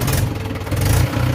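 A Mahindra 475 DI tractor idles just after starting, a close, loud, low diesel rumble with a steady chugging pulse throughout a short stretch.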